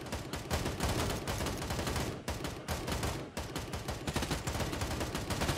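Dense, continuous gunfire from the military shooter Grey Zone Warfare, with overlapping rapid shots and bursts running steadily throughout at a loud, close level.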